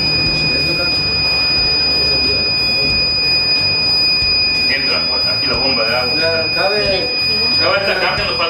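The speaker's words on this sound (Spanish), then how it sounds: "Este, cuando detecta el fuego, va a encender acá el buzzer, que es la alarma" A buzzer on a homemade Arduino fire alarm sounds a continuous steady high tone. About halfway through, a person starts talking over the constant whine.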